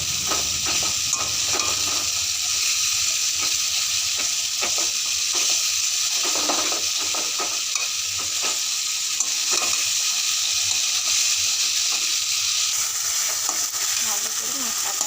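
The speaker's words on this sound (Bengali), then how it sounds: "ভালো করে মশলাটা কষানো হচ্ছে। মশলা ছেড়ে তেলটা ছেড়ে গেছে।" Spice masala sizzles and fries steadily in hot oil in a pan, with the oil now separating from the spices, under a constant frying hiss broken by repeated scraping and stirring sounds, close and fairly loud, no talk.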